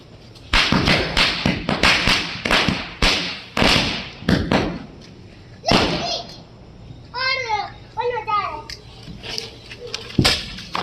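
Diwali firecrackers bursting in a series of sharp loud cracks and thuds at irregular intervals, with children's voices and chatter mixed in between the bangs.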